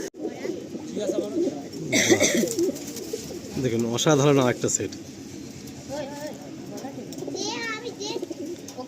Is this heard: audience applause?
no